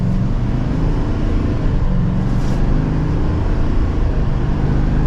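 A 2024 Chevrolet Silverado 2500HD ZR2 pickup accelerating in second gear, heard from inside as a dense, steady, loud engine and road roar with no pauses.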